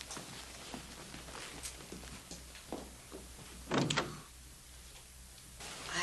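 An indoor door opens as a guest is shown out, with a soft clunk and creak standing out over quiet footsteps and faint room movement, then a second handling sound near the end.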